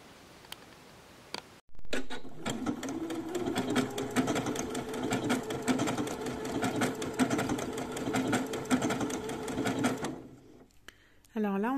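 A Janome domestic sewing machine runs steadily, stitching a woven overlock stitch along a fabric edge: a continuous loud mechanical whirr and clatter for about eight seconds, after a pause and a brief voice before it starts.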